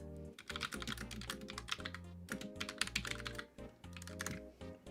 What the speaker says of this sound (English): You want to hear what the loud keyboard sounds like?